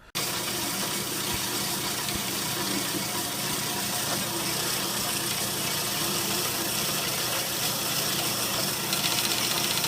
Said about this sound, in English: I'm gonna set this up in the bandsaw,